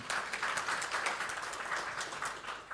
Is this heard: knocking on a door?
no